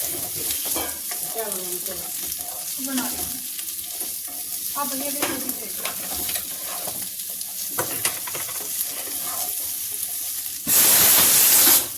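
Rice-flour fare dumplings fry in a pan with onions, giving a constant close sizzle. Clattering stirring knocks run through the frying, and a loud burst of hissing steam rises at the end.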